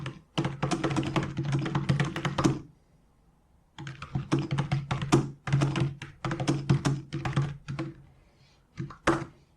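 Computer keyboard typing while writing text into a notebook cell: bursts of rapid, close keystrokes, pausing around the middle, then resuming in shorter clusters and single taps, with no talking.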